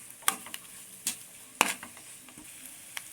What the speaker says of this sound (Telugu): మంచిగా మళ్ళీ ఒకసారి దీన్నంతా మంచిగా కలుపుకోవాలి